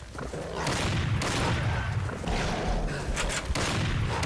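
Shotgun blasts in the hunting video game Dangerous Hunts: several loud, booming shots spaced roughly a second apart, each a dense burst of noise over a rumbling game background.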